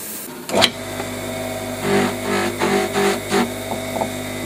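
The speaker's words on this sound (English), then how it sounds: "using an abrasive wheel." An abrasive wheel on a spinning polishing motor brushes a finish onto a bespoke silver cross, a steady motor hum broken by a sharp initial contact and several repeated rasping passes of the workpiece against the wheel.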